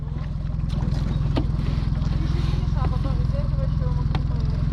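A boat's outboard motor runs steadily with an even, throbbing drone, close and continuous, while a few faint bird-like chirps come through over it.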